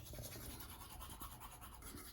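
Wet toothbrush scrubbing teeth with myrrh clove powder, a close, steady bristly scratching that runs continuously without pause.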